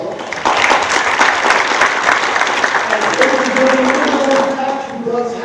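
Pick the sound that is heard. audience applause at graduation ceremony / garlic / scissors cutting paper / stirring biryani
audience applause at graduation ceremony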